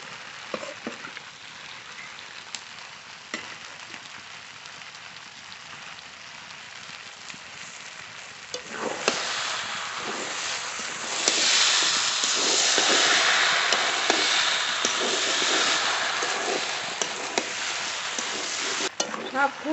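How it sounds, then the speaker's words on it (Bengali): Braised chicken pieces drop into a pan of ghugni with small potatoes, and a steady frying hiss swells into a louder, fuller sizzle with stirring scrapes, close and continuous, with no talking. "কষিয়ে রাখা মাংস অর্ধেকটা দিয়ে দেবো"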